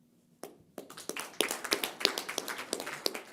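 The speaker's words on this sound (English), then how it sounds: "Let's make sure we give a huge round of applause" Scattered hand claps at a leadership summit closing ceremony, starting as a few isolated claps and building into light, uneven applause from a modest audience, fairly close and without talk.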